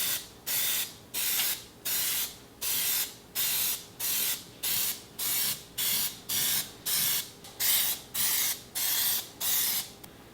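A spray can lays a full second coat of Plasti Dip onto a boat's rims in about fourteen steady hissing bursts, each close and loud with brief pauses between, and no one speaks.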